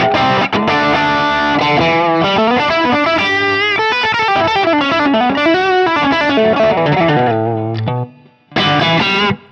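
A Fractal AX8 gig preset drives an electric guitar on the bridge pickup into thick, nasty distortion, with sustained chords and melodic bends ringing loudly before cutting out briefly and returning with a final chord.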